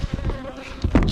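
Honey bees buzz close up during a honey harvest on Madeira, a dense, wavering drone mixed with rustling and handling noises.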